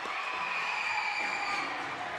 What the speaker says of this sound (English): Crowd's going crazy over here.